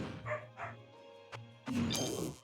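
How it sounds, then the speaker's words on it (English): Dogs bark and yip excitedly indoors, a few short barks followed by a louder agitated outburst, near and fairly loud. "Wow, my dogs are freaking the fuck out."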